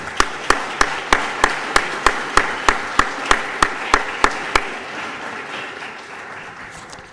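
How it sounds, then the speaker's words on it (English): A round of applause at a city's State of the City address: loud, evenly timed rhythmic claps over a crowd wash that fade into softer scattered clapping. "Let's give both of them another round of applause."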